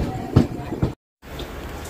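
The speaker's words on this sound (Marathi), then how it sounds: "आता ठाण्यावरसून ट्रेन निघाली." Konkan Kanya Express moving out of Thane, a low rumbling rattle with two heavy thumps from the wheels, a brief dropout, then a softer steady rolling drone.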